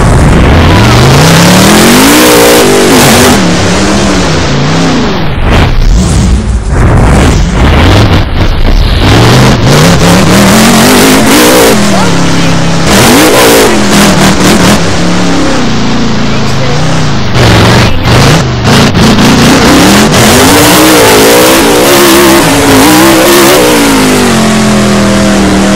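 A monster truck engine revs hard at a Monster Jam arena event, loud and continuous with repeated rising and falling surges, under an announcer's voice and crowd noise throughout.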